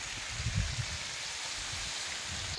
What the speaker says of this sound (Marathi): त्या चेंबरला आज बारीक पाईप जोडली आहे आणि ह्या पाईपनंच आता ही बीट धुवून घेतो की.